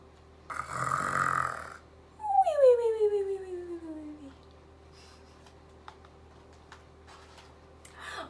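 A voice imitates a bear snoring, making a rough, breathy inhale followed by a long, falling, drawn-out tone that trails off. The room is quiet, with a few faint clicks afterward.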